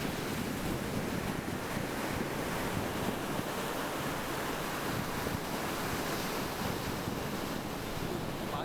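Sea waves break and wash steadily onto a beach with no pause, mixed with wind rumbling against the microphone. The surf stays close and loud for the whole stretch, and no one speaks.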